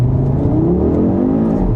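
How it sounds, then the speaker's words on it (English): A loud 2025 Audi RS3 engine revs up hard, its throaty exhaust note climbing steadily as it accelerates close by. "Still the same great loud exhaust and all that."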